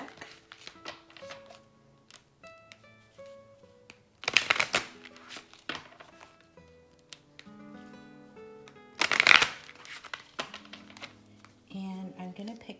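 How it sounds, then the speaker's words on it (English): A deck of affirmation cards is shuffled by hand in two loud riffling bursts amid scattered card taps and handling clicks, close and alone with no talk. "So I'm going to go ahead and shuffle this as well"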